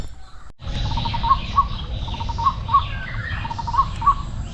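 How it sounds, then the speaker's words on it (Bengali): Small birds chirp in short repeated bursts on an early-winter morning at home, against a steady low background hum, the calls evenly spaced and moderately close. "সকালবেলা পাখির কিচিরমিচির ডাকে"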